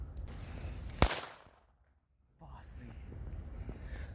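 A single sharp firecracker bang cracks out over a soft hiss, followed by a brief silence and then faint background sounds.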